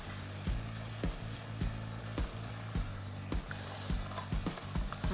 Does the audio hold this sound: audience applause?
no